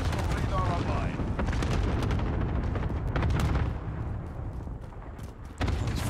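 Gunfire in Call of Duty: Modern Warfare, with loud, dense bursts of shots and booming impacts over a heavy battle din, and someone talking over it.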